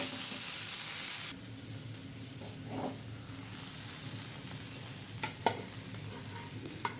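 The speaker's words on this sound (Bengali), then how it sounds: "এবার এগুলোকে আমি হালকা করে একটু ভেজে নেব বেশি কিন্তু নরম করব না" Vegetables lightly frying in a pan for a jackfruit curry, a soft continuous sizzle under occasional spatula taps and scrapes, close and unaccompanied by speech.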